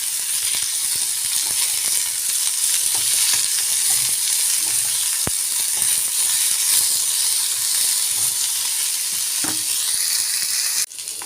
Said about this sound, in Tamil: நல்ல சுருள வதக்கலாம்